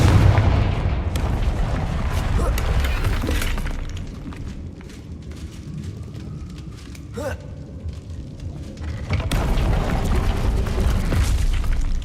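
A Confringo spell blast in Hogwarts Legacy, a loud game explosion with a sharp shattering crack near the middle, set among continuous in-game rumble and combat effects.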